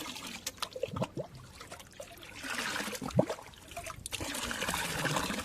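Drinking water pours and trickles in short splashy bursts on a hot day out in the fields, fairly faint and close, with brief pauses between pours.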